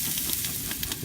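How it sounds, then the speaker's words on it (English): A water pan sizzles inside a BBQ smoker where ribs are cooking, giving a steady close hiss with small crackling pops throughout. "And that water pan is just sizzling away."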